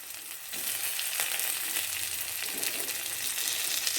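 Green chillies and tomato sautéing in a pan for prawn biryani give a steady, bright hissing sizzle with a few faint scraping touches, close up and continuous with no voices.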